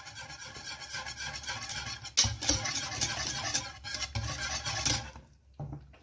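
A spoon scraping and rubbing against a pot while stirring a béchamel sauce mixture seasoned with pepper, salt and nutmeg, a steady close rasping with a few louder knocks.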